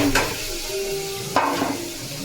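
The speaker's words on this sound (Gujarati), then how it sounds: "તેલમાં નાખી દીધી છે ડુંગળી ટમેટાની ગ્રેવી." Onion-tomato gravy sizzles in hot oil for chole, a low steady hiss with two sharp stirring scrapes, close and fairly quiet, with nobody speaking.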